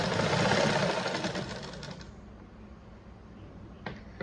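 A sewing machine stitches a blouse lining with a steady mechanical whir that is close and clear at first, then eases down into quieter, sparser running, with a couple of faint clicks near the end.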